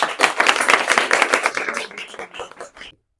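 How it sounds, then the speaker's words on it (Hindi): Audience clapping at a school gathering, a dense burst of many hands close by that thins out and stops after about three seconds. "चलिए, इसके लिए तालियां बजाइए।"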